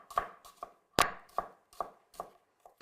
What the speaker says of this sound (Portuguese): Vou picar ainda mais fino, pois não queremos ver no prato depois